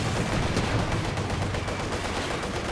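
Gunfire from a Company of Heroes 2 match, a dense, steady rattle of small-arms and machine-gun shots that runs through the whole stretch at an even, loud level with no talk over it.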